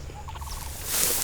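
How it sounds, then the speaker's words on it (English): Osceola wild turkey gobbling once in a quick rattling burst, fairly close and clear against a quiet outdoor backdrop, with a rising rush of wind or noise at the end. "pretty bird, Osceola, gobbling turkeys."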